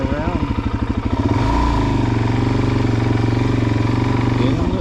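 A Suzuki DRZ400 motorcycle turning around on slippery snow, its single-cylinder engine loud and close, thumping at idle and then rising to a steady higher rev, with a voice speaking over it.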